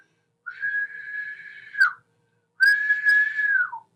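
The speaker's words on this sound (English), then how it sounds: "Run to the window and investigate the whistle." A person whistles two long, steady high notes separated by a short pause, each ending in a quick downward slide, clear and close against silence.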